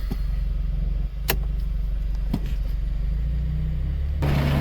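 A Ford EcoBoost car with an aftermarket intake drives on a warm day, and its low engine drone and road rumble hold steady from inside the cabin, broken by a few faint clicks and knocks.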